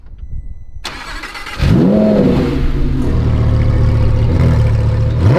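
A Lamborghini Huracan STO V10 cranks after a quiet moment, fires with a loud rising rev flare, then settles into a rumbling idle with a small blip, close and with no talk over it.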